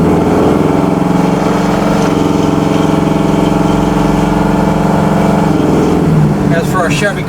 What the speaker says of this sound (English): As for our Chevy Camaro with a 327 in it, 67, it sounds fantastic.